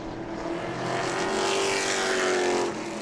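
Stock cars race around a track at a family fun night event, a loud engine roar swelling as cars pass near and then fading, with no voices heard.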